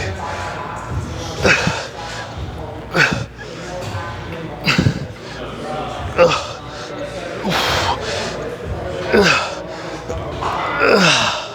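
Heavy, effortful breathing during a workout set on rear delts, with repeated sharp gasps and exhales at irregular intervals over gym clatter and background noise.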